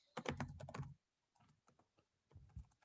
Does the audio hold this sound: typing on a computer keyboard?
yes